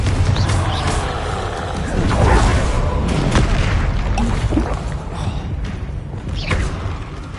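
Confringo fire spell explosions in the Hogwarts Legacy video game: dense, loud booming blasts and rumbling thuds over a constant heavy game soundscape, with layered roars and impacts throughout.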